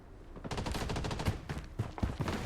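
Pistol fire in the shooter game Blood Strike, a rapid burst of close, sharp shots that rattles on, then a few slower separate cracks near the end.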